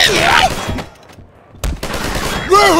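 Video game gunfire crackles in rapid bursts, loud and near, broken by a short lull before the shots resume, with a voice heard briefly among them.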